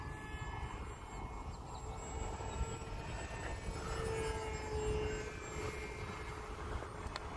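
A Hobbyzone Aeroscout S 1.1m ready-to-fly RC plane flies overhead, its pusher-prop electric motor giving a faint, steady distant drone that swells slightly mid-flight. No one speaks.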